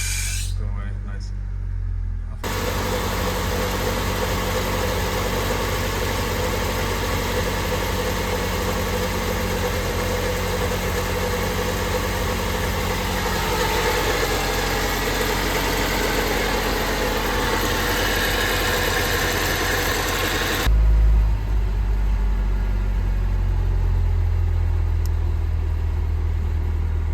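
A Honda Civic engine idles steadily at close range, a continuous low rumble with a broad hiss over it, shifting to a quieter, deeper idle near the end.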